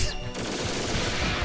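Peacock's guns firing in the fighting game SkullGirls produce a loud, rapid, continuous burst of gunfire with no talking.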